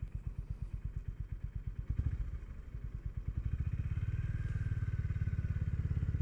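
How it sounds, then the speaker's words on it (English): A Honda GB350S motorcycle engine idles with a loud, lumpy putter, pulsing rhythmically, then settles into a faster, steadier chug close by. "just enjoy the sounds, not of horrible trucks, but of this engine"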